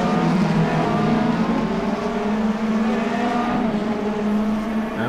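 Race cars in a sim racing video game roar loudly and steadily as they brake hard, engine tones shifting without a break.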